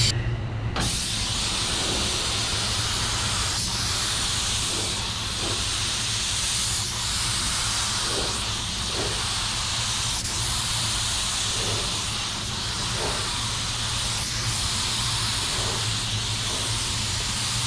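A spray gun at 25 PSI lays down a heavy coat of waterbase paint with a steady, loud hiss that swells in regular pulses with each pass. No one speaks.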